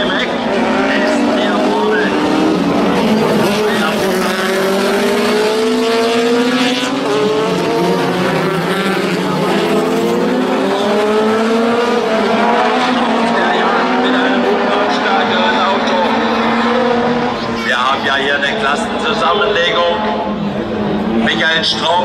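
An autocross race car with a hot motorcycle engine mounted in the rear races at a German autocross championship round in Gründau. Its high engine whine rises and falls continuously under a loud commentator's voice.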